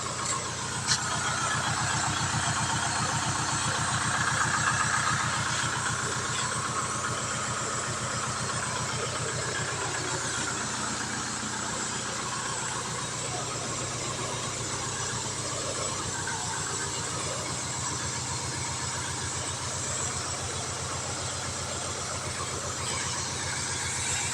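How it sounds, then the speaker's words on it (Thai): One-inch three-cylinder agricultural sprayer pump engine running, a steady, close, continuous mechanical drone with a rapid pulsing rhythm that holds evenly for the whole stretch, with no talking. "ปั๊มหนึ่งนิ้วสามสูบนะคะ"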